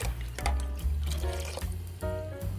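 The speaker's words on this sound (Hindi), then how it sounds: "पानी में उबाल आ चुका है।" Water comes to a rolling boil with cinnamon, star anise, cloves and black cardamom for Kashmiri pink tea, a dense, continuous bubbling and churning that sounds close and fairly loud.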